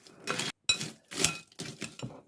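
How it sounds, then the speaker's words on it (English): Seasoned pretzels stirred in a bowl, giving dry rattling, clinking scrapes in several quick bursts separated by brief pauses, close and moderately loud with no talking. "Stir them well."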